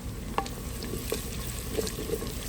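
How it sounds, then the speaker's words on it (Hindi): Garlic, green chili, ginger and coriander fry in a pan with a steady close sizzle, broken by a few faint clinks and scrapes of stirring. "ये है लहसुन, सावी मिर्चा, अदरक, सारा कुछ, धनिया दुनिया, तो ये भी डाल देते हैं।"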